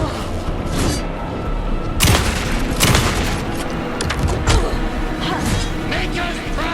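Heavy gunfire in the Alan Wake game, dense overlapping shots with a few sharp loud cracks standing out, continuous and close, with voices shouting over the fight.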